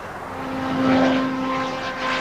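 A small ducted-fan trainer aircraft engine at the 1990 Farnborough air show drones steadily with a buzzy, whining tone like a small motorbike, swelling slightly as it passes fairly close.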